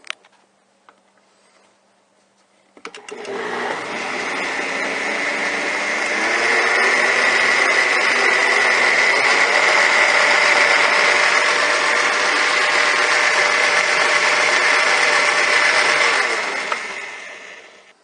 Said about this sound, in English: I'm going to put this over on my blender, and we'll get it processing.